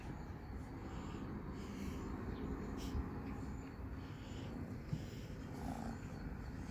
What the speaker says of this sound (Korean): 엄청 골골거리네